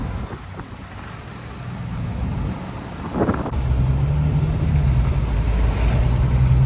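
A two-wheel-drive Jeep Wrangler with its doors removed driving on a slick snowy road, a steady engine hum and road rumble with wind buffeting that swells louder midway, without talk.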